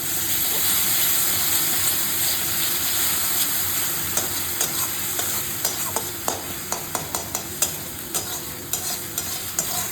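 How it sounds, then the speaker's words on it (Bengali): Masala of ginger, garlic, tomato and green chilli frying in a pan, a loud continuous sizzle with rhythmic scraping strokes of a spoon growing more regular toward the end. "মশলাটাকে ভালো করে কষিয়ে নিতে হবে।"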